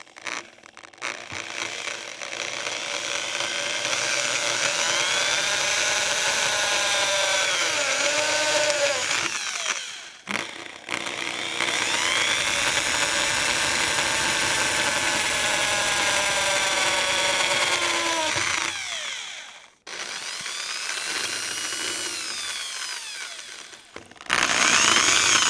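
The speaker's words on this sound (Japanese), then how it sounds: "これはもう細かくドリルで穴開けてあげて" An electric drill whines loudly and steadily, boring a row of holes into a broken wooden shoe tree for a Hungarian VASS shoe, running in long sustained bursts with brief stops and restarts.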